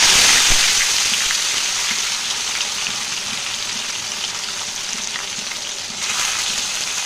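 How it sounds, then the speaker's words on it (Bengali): Bitter gourd sizzles loudly in hot mustard oil in a wok on a gas stove, a steady dense crackle that fills the whole stretch with a slight swell near the end. "তেল গরম হয়ে গেছে, উচ্ছেগুলো দিয়ে দিই।"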